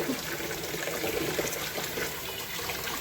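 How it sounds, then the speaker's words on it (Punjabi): Grains for a homemade baby cereal being rinsed in water, a steady soft sloshing and trickling wash that runs continuously and fairly close, with no talking. "ਇਹਨਾਂ ਨੂੰ ਆਪਾਂ ਚੰਗੀ ਤਰ੍ਹਾਂ ਵਾਸ਼ ਕਰਨਾ ਆ ਤਿੰਨ ਚਾਰ ਪਾਣੀ ਜਿੱਦਾਂ ਬਿਲਕੁਲ ਸਾਫ਼ ਹੋ ਜਾਵੇ"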